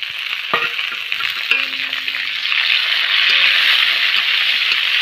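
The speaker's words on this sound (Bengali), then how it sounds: "তো এই দেখো টমেটোটা দিয়ে দিচ্ছি" Tomato dropped into hot oil with soybean chunks, a loud spattering sizzle that swells after the addition, with a few scraping stirs and a brief metallic ring early on.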